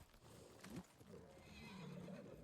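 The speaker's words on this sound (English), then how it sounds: "Call the horsey." A horse in the video game Ghost of Tsushima whinnies and its hooves clop, the neigh rising briefly early and a steadier whinny following, fairly close amid game ambience.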